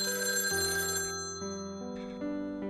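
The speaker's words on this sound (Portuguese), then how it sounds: "o telefone da padaria tocou" A bakery telephone rings with a bright electronic bell tone in a few short repeating bursts, close and clear with no voices.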